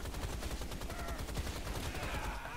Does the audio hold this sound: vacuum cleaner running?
no